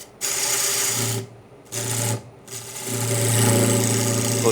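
A turning tool cutting into a heavy wood platter on a lathe, three loud bursts of steady machine-like cutting separated by brief quieter pauses, the last run longer and sustained.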